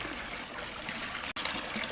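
Steady water trickling and splashing from an extra pump added to a tilapia fish pond, continuous and fairly loud throughout, with one brief dropout.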